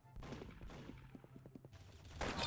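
Rapid bursts of gunfire in the shooter game Arsenal, a string of quick close shots with a louder blast near the end, heard over faint background game sound.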